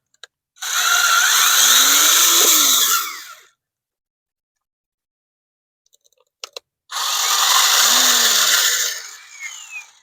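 A powered earth auger bores a hole in the ground for a hanging hammock chair stand, running in two steady, loud, near bursts of engine whine separated by a quiet pause.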